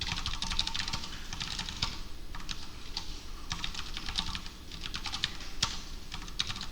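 Steady clatter of fingers typing on a computer keyboard, close and continuous with irregular rapid keystrokes over faint room hum, no talking.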